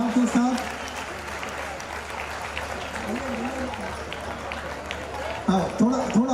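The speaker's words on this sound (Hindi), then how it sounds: "अगर अच्छा लगे जोरदार ताली होना चाहिए पूरे मनोभाव के साथ" A crowd at a Jain religious gathering in Mumbai applauds in a sustained, moderately loud wash of clapping, with a voice speaking over it at the start and again near the end.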